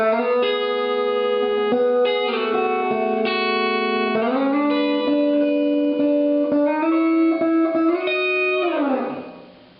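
Clean electric guitar chords played on the bridge pickup of a guitar fitted with Fender Custom Shop Nocaster pickups, bright and twangy, ringing out over several changes before fading.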